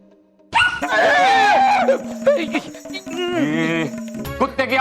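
A dog yips, whimpers and barks in a loud, varied burst lasting several seconds, with a whining, wavering pitch that suggests a person imitating the sound.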